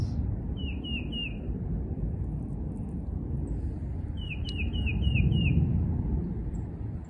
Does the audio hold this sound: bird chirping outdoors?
yes